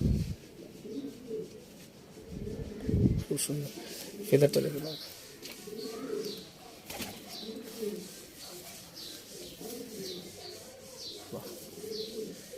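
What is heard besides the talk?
pigeons cooing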